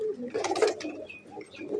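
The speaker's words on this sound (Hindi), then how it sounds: "सारे जवान कबूतर है भाई, एक भी बुड्ढा छुट्टा कबूतर नहीं है इसमें" Young pigeons coo softly and repeatedly at close range in Delhi, their low throaty calls overlapping with no voices.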